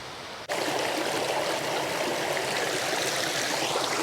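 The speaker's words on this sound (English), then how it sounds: "there's a running water source down here anyway" Running water from a stream near a tarn in the Lake District rushes steadily and close by, a continuous broadband wash starting abruptly after a brief pause and holding even throughout.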